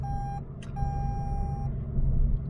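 A car's speed limiter warning beep sounds steadily twice, briefly interrupted, on reaching the speed limit down a steep hill, over a loud low engine and road rumble.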